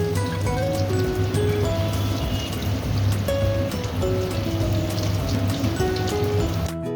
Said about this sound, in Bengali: এবার ডিমের চপগুলো ভেজে নিচ্ছি